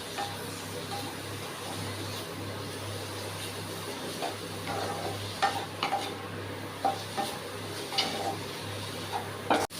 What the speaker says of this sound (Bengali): এবার এটা নেড়ে চেড়ে নেব